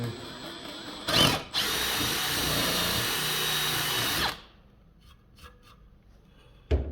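A power drill whirs loudly for a few seconds with a brief higher burst near the start, then stops, leaving quiet room noise.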